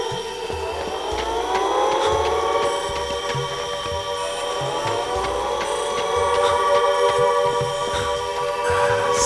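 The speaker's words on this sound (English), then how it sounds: "Someone had to have set off the alarm to the siren." A wailing siren alarm in the horror video game Siren: Blood Curse, a loud continuous tone rising and holding steady over a low rumble and irregular thuds, with no talk.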